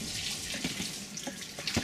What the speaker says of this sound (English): I'm just going to take most of the water off.